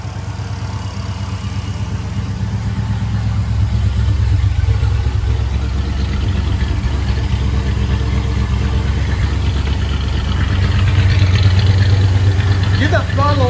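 A 1976 Pontiac Trans Am engine idles after a Sniper EFI fuel injection install, a continuous loud rumble that holds steady throughout with a slight throttle lift near the end, while voices talk faintly over it.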